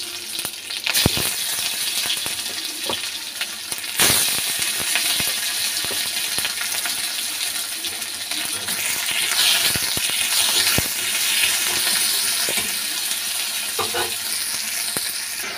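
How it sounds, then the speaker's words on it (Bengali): Panch phoron and chopped onions fry in hot oil for a light Bengali dish, giving a steady, close crackling sizzle throughout, with a few sharper pops and spatters along the way. "তো এখানে তেলের মধ্যে দুটো পাঁচফোড়ন দিয়ে দিচ্ছি"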